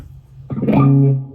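A single electric guitar chord rings out through a Positive Grid Spark amp with gain and master at noon, bright and sustained, with a touch of reverb as it decays after about a second.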